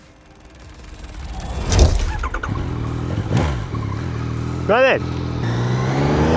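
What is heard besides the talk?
Yamaha MT-09 motorcycle engine revving, riding off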